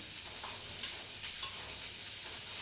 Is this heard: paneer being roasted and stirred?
yes